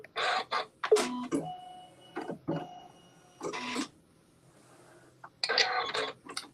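A quilting machine stitching with white embroidery thread runs in short, intermittent bursts of rapid mechanical whirring and clicking, separated by quiet pauses.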